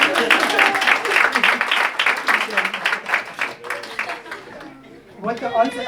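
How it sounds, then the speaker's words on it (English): Workshop audience breaking into a round of applause, a dense burst of clapping that tapers off, mixed with voices and chatter. "Can you give him a round of applause?"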